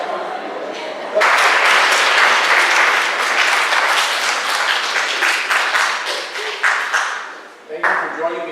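A high school audience claps at a freshman speech, starting abruptly in a loud burst of sustained applause that slowly thins to scattered claps and a brief renewed swell.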